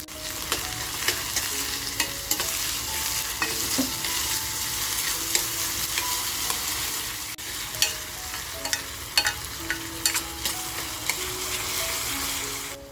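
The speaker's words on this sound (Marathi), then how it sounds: "तेल बघा छान तापल्यानंतर आपल्याला कांदा टाकून घ्यायचे. कांद्याबरोबरच बघा थोडीशी कोथिंबीर टाकून घेते" Onion and a little coriander leaf tossed into hot oil for a spicy karandi shrimp masala, frying with a steady dense sizzle and occasional stirring clicks and scrapes, close and continuous with no voices.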